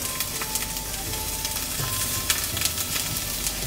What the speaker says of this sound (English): Okay, skin side down, it'll sear as soon as it hits.